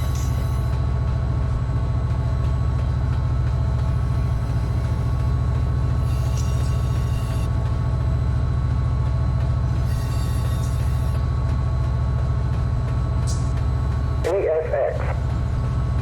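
A freight train hauling empty molten sulfur cars in Run 8 Train Simulator rumbles on with a steady low drone and constant engine hum, with a brief rattling clank near the end.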